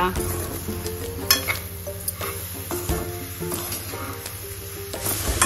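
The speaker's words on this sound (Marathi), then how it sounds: "1 चमचा विलायची पावडर टाकून चांगलं परतून घेऊया" Grated coconut being sautéed with sugar and cardamom powder in a pan over low heat, with a steady soft sizzle and repeated scraping stirs of a spoon against the pan.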